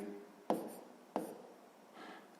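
A pen writes a math answer on paper by hand: two sharp taps start short scratching strokes, followed by a softer rubbing stroke, all quiet and close.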